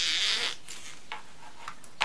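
Zipper pull being fed onto a zipper with a homemade fork jig: a soft rasping slide at the start, then a few small clicks and light ticks of plastic and metal, close and quiet, with no talking.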